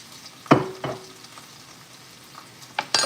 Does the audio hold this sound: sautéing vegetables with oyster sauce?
yes